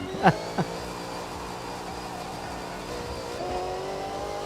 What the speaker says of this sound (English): How's about that for valve float right there?